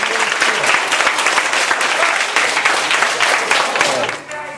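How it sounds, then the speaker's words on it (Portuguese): A crowd applauds steadily, dense clapping throughout that tapers off at the end. "Vamos aplaudir."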